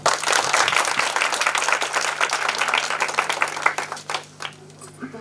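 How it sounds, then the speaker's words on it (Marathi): An audience applauds loudly and steadily at an International Women's Day celebration, the clapping dense throughout and thinning slightly near the end, with no talk over it. "आणि एकदा होऊन जाऊ द्या स्वतः करता एक जोरदार टाळ्या"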